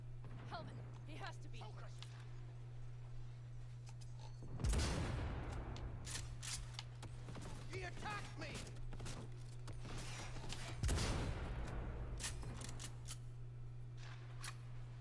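SPT-32 Grad rifle fire in Cyberpunk 2077, scattered sharp single shots with two heavier bursts, heard under a steady hum and a voice talking.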